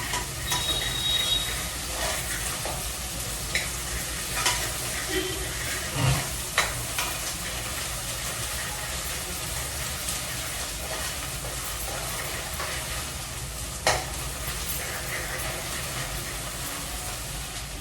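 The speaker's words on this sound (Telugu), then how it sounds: "గార్లిక్ గింజర్ పేస్ట్ కొంచెం ఒక పెద్ద స్పూన్ అంతా తీసుకుందాము పచ్చివాసన పోవాలి" Garlic ginger paste frying in a pan for rajma, a steady close sizzle running throughout with occasional light scrapes and taps of a stirring spoon.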